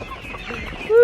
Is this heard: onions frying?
no